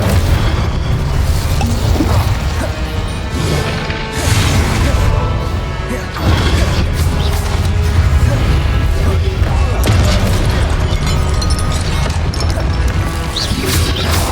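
Spell explosions from Hogwarts Legacy combat: a continuous loud barrage of booms, crashes and bursts with whooshing between impacts, and voices shouting under the chaos.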